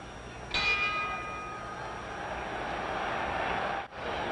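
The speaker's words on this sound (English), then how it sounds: "The bell in 10 seconds." The ring bell sounds at Madison Square Garden before a 1963 boxing match between Muhammad Ali and Doug Jones, a single bright clang that rings out and fades slowly over a steady crowd roar.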